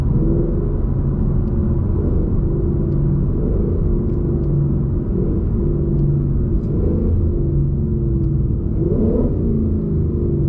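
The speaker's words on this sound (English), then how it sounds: "Let's try these downshifts, see if the paddle shifters are smooth." The V8 engine of a 2020 Mustang GT running an E85 tune rumbles deeply through paddle-shift downshifts, with brief rises in revs on each shift over a constant low drone heard from inside the car.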